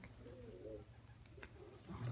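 Pigeons coo softly outdoors in a few low, rolling calls against a quiet background, with no talking.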